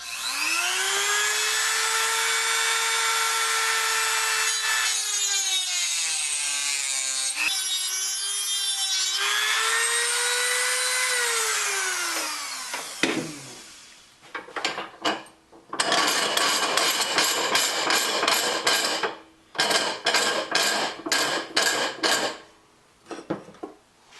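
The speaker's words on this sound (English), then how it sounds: "a couple of marks where I'm going to cut with the Dremel" A Dremel rotary tool cuts into a metal nut, starting with a steady high whine that dips under load, then breaking into loud, choppy bursts of grinding with short pauses between cuts, close up and without talk.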